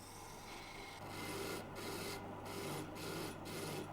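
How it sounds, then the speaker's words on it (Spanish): Wood is worked by hand with gouges, a steady scraping rasp with rhythmic strokes repeating about every half second, close and fairly quiet. "Ignacio tiene que desbastarla con pulso firme, sirviéndose de unas herramientas específicas"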